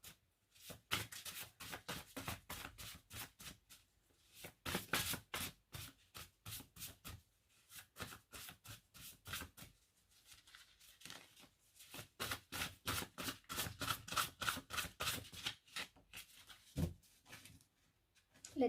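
Tarot cards being shuffled by hand in long bursts of quick riffling and flicking, soft and close, with brief pauses between rounds and no voice over it.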